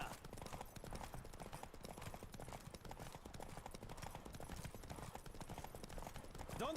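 Fast, even hoofbeats of a galloping horse in The Witcher 3: Wild Hunt, played on PC, pound continuously up close over a rushing wind bed, with no one speaking.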